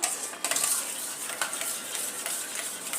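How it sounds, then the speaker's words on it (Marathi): Yogurt (dahi) being whisked with sugar in a bowl, a steady close scraping and swishing with repeated light strokes against the bowl's sides, continuing throughout with no talk. "आता हे दही आपल्याला चांगल्या प्रकारे फेटून घ्यायचे आहे"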